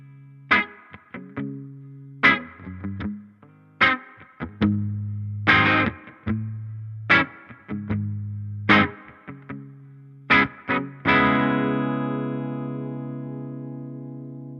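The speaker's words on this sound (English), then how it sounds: "Let's introduce a little bit of the reverb" Electric guitar played through a Laney Lionheart Foundry Super 60 amp with light reverb: a run of separate plucked notes and chords, each ringing briefly, ending on a longer sustained chord that trails off.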